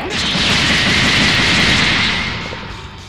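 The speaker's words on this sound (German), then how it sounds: "das war die Ki-Explosion" A ki explosion attack in the video game Dragon Ball Xenoverse: a loud, roaring energy blast with a broad rushing hiss and rumbling body that swells, holds, then gradually fades away.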